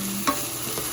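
Chicken sautéing with garlic and onion sizzles quietly in a pan, with one or two scrapes of a spoon stirring through it over a single second.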